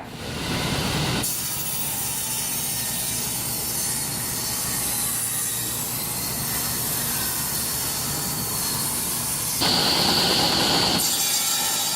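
Power saw cutting wood in a home shop while a tabletop is being built, a steady loud whine running for most of the stretch, starting and stopping abruptly with a brief higher-pitched burst near the end.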